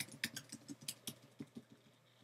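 Typing on a phone keyboard, a quick run of light, irregular taps close by and fairly quiet, with no talking.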